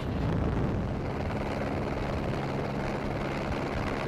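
A helicopter filming a rally stage in Estonia gives off a loud, steady rotor and engine roar, continuous and close throughout, with no talk over it.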